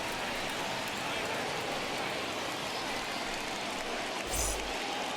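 Steady, even hiss of rain falling on a baseball field in MLB The Show 21, continuous for the whole stretch, with a brief low thump near the end.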